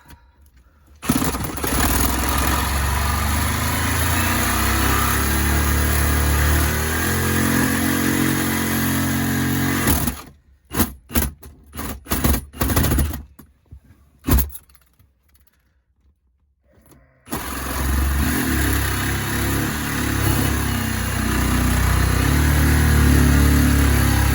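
A worn saw blade cuts through a spot weld on a junkyard Chevy S10, a loud, harsh, continuous grinding roar up close that breaks off into stuttering bursts and a pause midway before the cut resumes at full strength.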